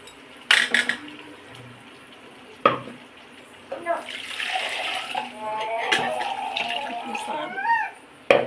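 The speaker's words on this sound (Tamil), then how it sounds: "அரைச்சி வச்சுருக்கதை ஊற்றிடலாம்" Ground tomato, green chili and coconut paste is poured into a pan for Chettinad potato kurma, with a few sharp utensil clinks followed by a sustained wet, slushy pour and sizzle, and a voice faintly in the background.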